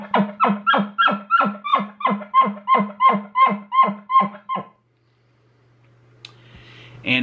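A person imitates a bull elk's bark chuckle with about fifteen rapid, rhythmic, nasal grunting pulses, close and loud, followed by a short quiet stretch with a faint hum and a light click.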